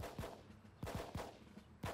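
Alpha team rifle fire in the Full Spectrum Warrior military game, heard as several sharp, loud gunshot bursts spaced irregularly, with a steady battle ambience between them.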